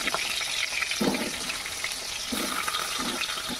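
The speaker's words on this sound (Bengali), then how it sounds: "তেল গরম হয়ে আসছে, এবার দিয়ে দিতেছি আলুগুলো।" Potatoes go into hot mustard oil in a pan for a mutton curry, setting off a loud, continuous sizzling hiss with bursts of spattering up close. No one speaks.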